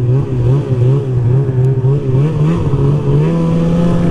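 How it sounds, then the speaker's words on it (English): A 2002 Ski-Doo MXZ 800 snowmobile with an MBRP trail can exhaust drones close and loud, its engine holding a rough, slightly wavering rev throughout. "it's got an MBRP trail can on it, which I think sounds pretty cool. I don't think it's too obnoxiously loud"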